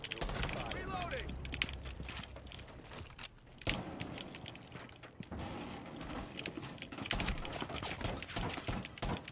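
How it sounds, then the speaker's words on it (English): Weapon reload in the tactical shooter Rainbow Six Siege: mechanical clicks and clunks of a magazine change over dense game noise, with voice callouts running through. "Reloading."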